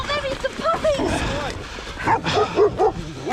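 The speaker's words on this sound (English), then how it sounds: "Get your dogs off me! Get your dogs off me!" Several dogs in a forest encounter bark, yip and whimper in a frantic burst of short, close calls, mixed with people shouting.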